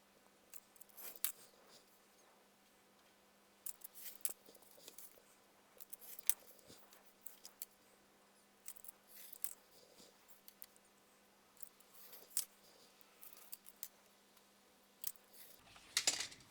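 Scissors trimming out paper display pockets for an ephemera craft, faint close snips and crisp paper rustles scattered irregularly over a quiet background.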